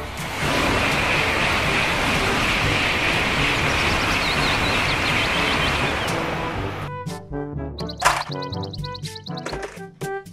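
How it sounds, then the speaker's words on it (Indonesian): A high-speed train rushes past with a broad, steady roar for about seven seconds, then fades into scattered tonal chimes and clicks. There is no talking. "Kereta cepat."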